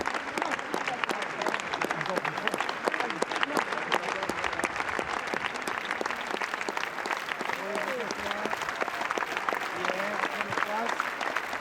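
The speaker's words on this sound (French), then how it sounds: "Les applaudissements pourraient s'arrêter." Sustained applause from a large crowd on the Cannes festival red carpet, dense rapid clapping that carries on without pause, with people talking underneath.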